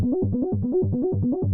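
A fast, repeating synth pattern of short bouncing notes cycles in a steady looping rhythm, bright and buzzy with no voices.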